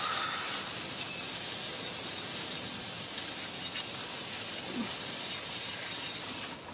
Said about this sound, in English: I'm using non-chlorinated brake cleaner, so it's not bad on this rubber